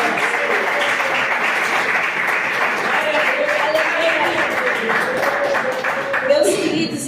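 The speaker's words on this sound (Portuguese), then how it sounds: "Bate as palmas bem." A church congregation claps their hands together in a loud, dense, sustained burst, with a musical tone and voices blending underneath the even clapping throughout.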